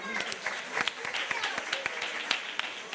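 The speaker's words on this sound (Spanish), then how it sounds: "Un aplauso para la oveja y el buey." A theatre audience at a children's show claps in a steady, moderately loud round of applause for the sheep and the ox, the scattered hand claps overlapping under a bit of talk.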